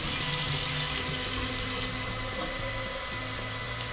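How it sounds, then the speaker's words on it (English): Tap water runs into a jug while brewing a Morgan's Stone & Wood Pacific Ale kit, a steady, moderately quiet rushing and splashing with no voices. "Get some water in this."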